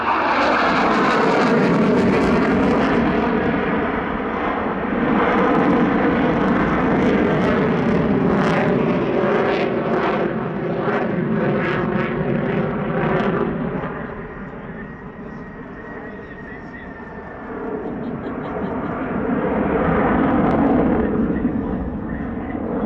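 Boeing F/A-18 Super Hornet fighter jet performing a display at the Australian International Airshow, a loud sustained engine roar that swells and fades as it passes, with crackling jet noise throughout.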